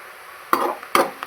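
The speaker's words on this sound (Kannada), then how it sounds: "ಇದು ಸ್ವಲ್ಪ ಚೆನ್ನಾಗಿ ಫ್ರೈ ಮಾಡ್ಕೊಳ್ಳೋಣ" Onions frying in a pan for a chicken gravy: two short scraping stirs stand out against a faint, steady background hiss, quiet and close.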